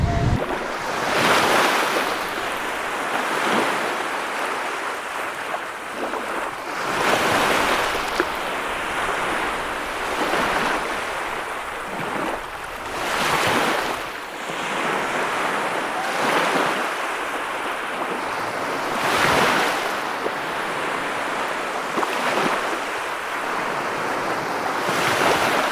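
Sea waves roll in and break on the shore in repeated broad surges, swelling and receding every few seconds, with steady wind hiss underneath and no voices.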